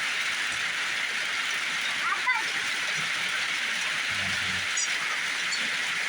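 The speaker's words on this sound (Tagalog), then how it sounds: "Lakas ng ulan dito, mga par" Heavy rain pours down in a dense, steady hiss with no letup, and a voice is heard briefly beneath the downpour, where fighting roosters are being bathed outdoors.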